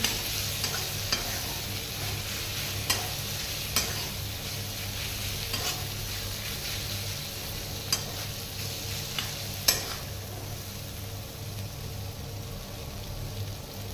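Cauliflower frying in a pan with fenugreek leaves, a steady close sizzle broken by repeated scraping stirs and occasional sharp clinks of the utensil.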